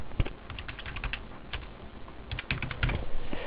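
Fingers type on a computer keyboard while entering accounting data, pressing codes and amounts. The clicks come close and distinct in quick irregular clusters with short pauses, and grow busier toward the end, with no talk.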